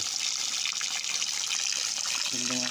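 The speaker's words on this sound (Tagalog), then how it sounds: "Meron din tubig na lumalabas." Spring water flows out beside a river in a steady gushing hiss, close and continuous, with a voice briefly heard near the end.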